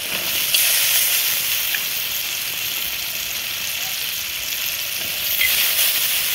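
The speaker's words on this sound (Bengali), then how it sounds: "এখন আমি এর মধ্যে দিয়ে দিচ্ছি খেসারির ডাল" Khesari dal (grass pea lentils) hitting a hot pan, a steady loud sizzle and frying hiss with a couple of faint clinks, continuous and close with no talk.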